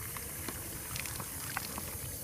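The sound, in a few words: water filling a fly trap bag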